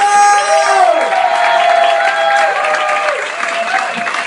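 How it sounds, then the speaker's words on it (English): A comedy club audience cheers, claps and whoops to welcome a comedian to the stage, loud and close at first, with several high whoops standing out before it eases slightly. "Please start the cheering and whooping."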